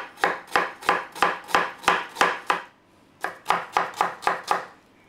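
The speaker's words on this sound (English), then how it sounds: "What you want to do with the onions is to chop them in really, really small pieces, small dice." A knife chops onions into small dice on a cutting board, with about fourteen crisp, rapid, evenly spaced strokes in two runs separated by a brief pause; the sound is close and clear, with no talking.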